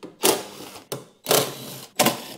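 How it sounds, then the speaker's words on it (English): Power tool backing bolts out of the drive cover of a battery-powered snowblower, four close, loud whirring bursts separated by short pauses. "Let's take out these bolts."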